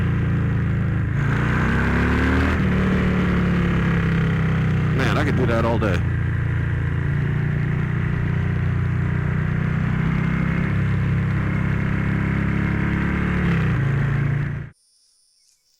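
A Harley-Davidson Street Bob 114 motorcycle with a DynoJet Power Vision tune rumbles steadily while being ridden, a loud continuous low engine and exhaust drone with a brief rev change midway, someone talking over it before it cuts off abruptly.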